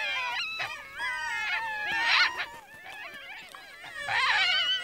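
A pack of Ethiopian wolves in the highlands yips, whines and howls together in an excited morning greeting ritual, overlapping wavering calls rising and falling close by.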